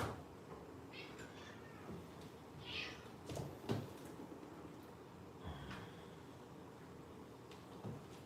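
A house cat gives a few soft, short meows at intervals, quiet and close in a calm indoor room with faint background noise.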